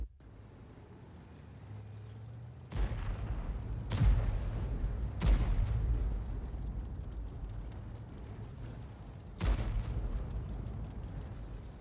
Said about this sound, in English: He fires the round in